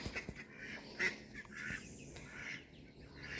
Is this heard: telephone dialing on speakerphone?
no